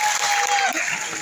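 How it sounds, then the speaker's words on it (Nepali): Audience at a Nepali comedy show celebrating Engineers Day breaking into applause, a dense burst of clapping filling the short moment, loud and close. "एकचोटि सबै इन्जिनियरका लागि ताली बजाउनु त"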